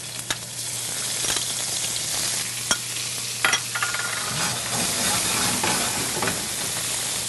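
Shrimp fry in hot olive oil with a continuous bright sizzle and hiss, punctuated by sharp stirring clacks and utensil taps, close up and without voices.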